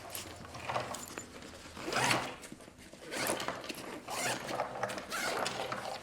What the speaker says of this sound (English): I can kind of compress this down and zip it back up